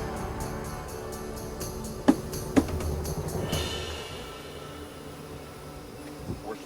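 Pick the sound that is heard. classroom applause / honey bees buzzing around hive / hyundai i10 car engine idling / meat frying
honey bees buzzing around hive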